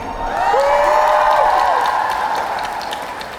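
Comic Con audience at a celebrity interview panel bursts into applause and cheers, a dense wash of clapping with high whoops swelling early, then gradually easing off.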